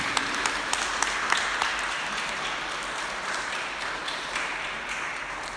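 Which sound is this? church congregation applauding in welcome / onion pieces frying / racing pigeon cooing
church congregation applauding in welcome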